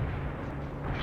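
Artillery fire in the video game World in Conflict, a dense, continuous low rumble of blasts filling the whole short moment, loud and close.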